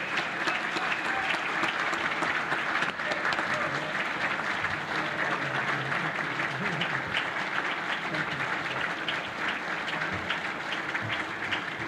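An audience at the 2019 Laurinburg/Scotland County Area Chamber of Commerce annual meeting applauds as the incoming Chamber Chair comes to the podium, a dense, steady roomful of clapping that lasts throughout.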